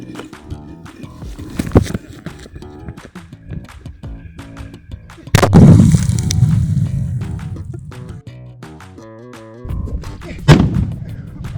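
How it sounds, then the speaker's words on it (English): Large firecracker explosion used to launch a GoPro camera rocket: clatter and knocks lead into a loud blast around the middle that decays into rumbling, then another sharp bang near the end, recorded close. "You can see the fireball milliseconds after the explosion and some pieces of my rocket flying away"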